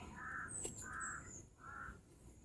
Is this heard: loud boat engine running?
no